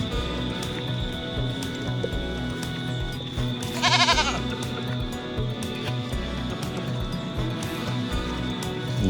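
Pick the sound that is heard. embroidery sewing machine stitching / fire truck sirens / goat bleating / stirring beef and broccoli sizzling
goat bleating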